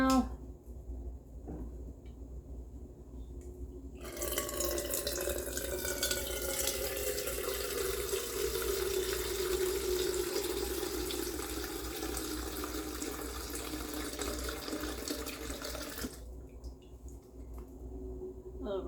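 Plain white melted candle wax pours steadily into a candle mold for about twelve seconds, a soft continuous liquid trickle that is faint and close, with quiet room hiss before and after.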